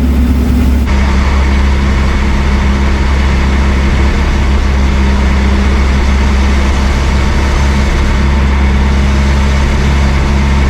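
The engine of a 1953 Willys Overland pickup drones steadily and loudly while driving in third gear at about 45 mph, with a low rumbling hum and slight unevenness as it cuts out intermittently.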